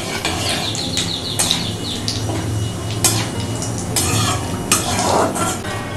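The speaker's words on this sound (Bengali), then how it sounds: "প্রথমে ফোড়নটাকে 30 সেকেন্ডের মতন ভেজে নিতে হবে।" Whole cumin seeds and dried red chillies fry in hot oil for a pointed gourd dish, a continuous crackling sizzle broken by sharp spatula scrapes and metallic clinks against the pan.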